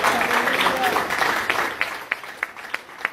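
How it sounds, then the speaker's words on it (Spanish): A church congregation claps in a broad burst that thins out, leaving a few scattered, sharper single claps near the end, with a voice heard over the start. "¿Cuántos dan un aplauso al Señor?"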